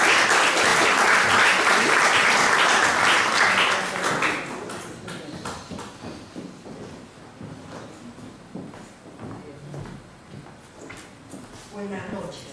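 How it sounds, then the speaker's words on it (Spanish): Audience applause for a poet at an International Women's Day poetry recital, loud and dense for about four seconds, then thinning into scattered claps and room noise. "Palmas para ella, por favor."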